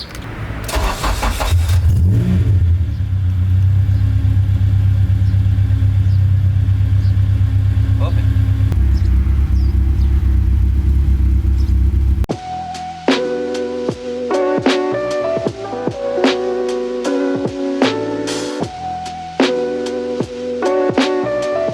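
A modified Honda Civic EK with a built K20 engine, left sitting overnight, cranks and fires up, then runs loud and rough with revving for about twelve seconds before music takes over.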